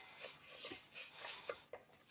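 A cooking pot lid is handled in a home kitchen, giving a few quiet, short metallic clinks and scrapes spread across two seconds at low volume.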